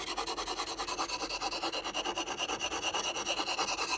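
A steel knife blade is pushed back and forth on a wet sharpening stone in quick, even strokes of about five per second, a close, soft, gritty scraping that continues for four seconds with no voices.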